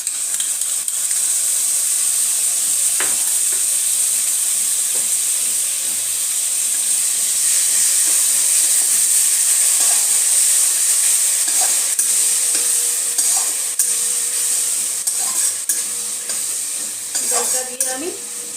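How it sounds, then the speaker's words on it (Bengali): Biryani masala and yogurt sizzle and fry steadily in a pan for potato biryani, a continuous close hiss with occasional stirring scrapes and clinks, no talking. "দইটা দিয়ে আমি এই 2 মিনিটের জন্য কষিয়ে নেব।"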